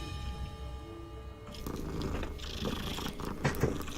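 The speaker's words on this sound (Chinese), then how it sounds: "这是蓝猫。" Cat purring in the Hogwarts Legacy video game, a steady low rumbling purr mixed with game ambience and a faint musical tone, continuing throughout.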